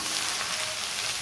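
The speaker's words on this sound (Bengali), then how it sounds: "এবার কচুরলতিগুলো দিয়ে ভালো করে ভাজা করে নেব।" Kochur loti, or taro stolons, fry in a pan with a close, steady sizzle and a little stirring, with no pauses over a brief moment.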